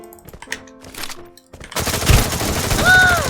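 Shotgun fire in a mobile shooter game, a quick burst of close, loud blasts following a quieter stretch of scattered game sounds.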